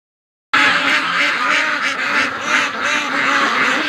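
A flock of ducks being raised for charity quacks steadily and loudly at close range, a dense overlapping chorus that starts abruptly and continues without a break.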